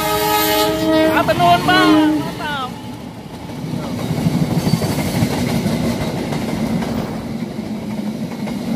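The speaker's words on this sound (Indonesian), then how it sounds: "KA lokal Garut Cibatuan KA448 relasi stasiun Padalarang, Bandung, Cicalengka, Cibatu, dan akan mengakhiri perjalanannya nanti di stasiun Garut." Local passenger train KA448 on the Padalarang–Bandung–Cibatu–Garut route in Indonesia sounds several loud, close horn blasts, then rumbles past with a steady rolling clatter while people speak nearby.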